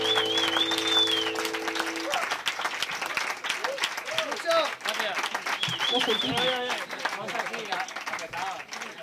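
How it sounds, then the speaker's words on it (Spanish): Audience applause and clapping at a live performance of a song, a dense, steady crowd sound filling the whole stretch, with some singing or sustained tones early on. "Un aplauso para Tomás, para Virginia, para Alberto"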